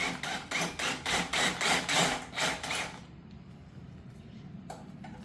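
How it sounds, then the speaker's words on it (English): A drill grinds in rhythmic bursts, about ten pulses in quick succession, drilling out a rivet head on a 2003 Mustang Cobra, then stops, leaving quiet background noise with one faint knock near the end. "taking a drill bit, match it up with that rivet size, and then just going to back it out"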